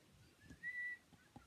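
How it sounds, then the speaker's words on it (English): A person whistles softly while making stamped notecards: one brief, thin, steady note, quiet and close, amid faint handling noises. "Why am I whistling?"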